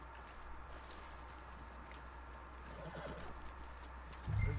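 Faint horse hooves clip-clop over quiet ambience in the Red Dead Redemption 2 video game, ending with a brief, louder horse neigh right at the close.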